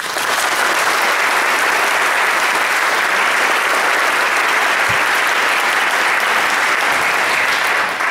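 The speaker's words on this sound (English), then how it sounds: "Let's give them one more round of applause." Sustained, dense applause from an audience for the Folsom Lake College Youth Chamber Orchestra after its first performance, a steady wash of many hands clapping at full strength for about eight seconds with no talking over it.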